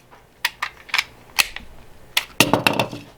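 A Smith and Wesson CSX pistol magazine is handled, giving a series of sharp, close metallic clicks and snaps at irregular intervals, louder near the end, with no talking.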